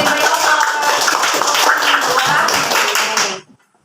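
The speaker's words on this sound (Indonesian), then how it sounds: "Ayo tepuk tangan yang lain." Hands clapping in a classroom of teacher trainees, a close, busy patter of many claps with light voices mixed in, stopping abruptly near the end into near silence.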